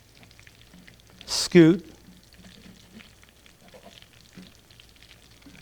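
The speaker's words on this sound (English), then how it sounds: "let's just move the shrimp around a little bit in the pan" Shrimp fry in shallow oil in a pan with a soft, faint continuous sizzle, while a voice briefly speaks over it near the start.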